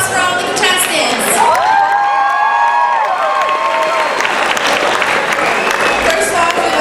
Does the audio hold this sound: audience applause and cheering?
yes